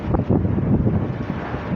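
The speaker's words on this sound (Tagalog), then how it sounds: "Grabe, ang lakas ng hangin mga lods." Strong gusting wind ahead of an approaching sandstorm, buffeting the microphone with a steady low roar and uneven rumbling gusts, no speech.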